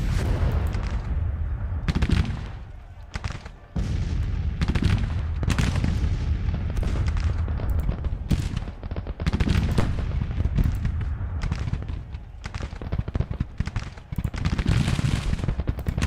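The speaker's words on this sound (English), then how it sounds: "Sure, we turned that artillery against them, didn't we?" Civil War artillery and musket volleys in a Grand Tactician battle at Bull Run, a dense continuous barrage of booming cannon and crackling rifle fire with sharp repeated blasts throughout.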